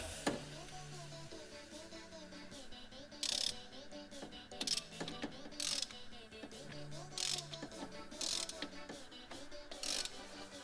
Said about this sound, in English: now all I need to do is get my ratchet onto that